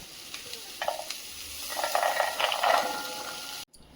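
Black chickpeas roasting in a pan, a soft steady sizzle with scraping stirs and clinks of a spoon, fairly close and moderately quiet, ending in a brief cutoff.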